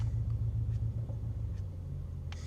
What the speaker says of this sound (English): you can tell immediately an exhaust sound change when you switch it through the modes.